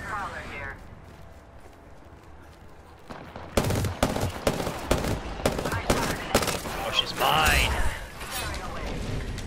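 Rapid bursts of gunfire from players shooting prowlers in a video game ring out loud and close, clustered volleys over several seconds, with excited voices talking over the shooting.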